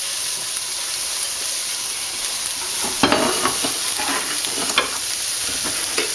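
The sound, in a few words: stirring garlic and onions frying in a pan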